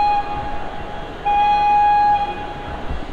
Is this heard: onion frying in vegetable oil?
no